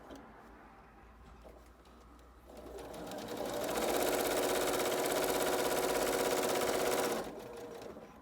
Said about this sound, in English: Okay, so we're sewing our last seam.